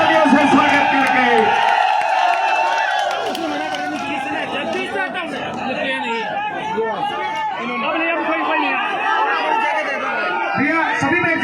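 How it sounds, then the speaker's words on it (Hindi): A dense crowd at a live rally for Chandrashekhar Azad roars, whoops and chatters loudly and steadily throughout, with broadband cheering that fills the whole stretch and no clear separate claps. "सभी जोरदार तालियों से स्वागत करके"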